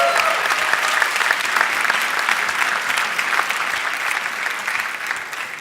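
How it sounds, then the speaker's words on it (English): A large crowd at a graduation ceremony applauds software and service architecture graduates, a loud, sustained wash of clapping that stays even throughout with no pause. "A round of applause for all the software and service architecture graduates"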